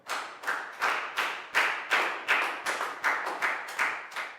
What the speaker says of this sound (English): And a big round of applause for everybody doing a great job.